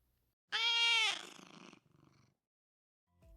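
One clear meow from a nearby cat, then a low fluttering purr that fades out, leaving near silence with a faint thump at the end.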